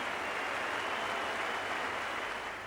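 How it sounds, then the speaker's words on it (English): Crowd applause at the Gabba as a standing ovation during an Australia v England Ashes Test in 1986–87, a steady broadband roar of clapping sustained across the whole stretch at even level. "Both of them getting a standing ovation from the crowd here at the Gabba"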